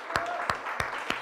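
A church congregation claps in a slow, even rhythm, four distinct claps in quick succession over a low hum of the room.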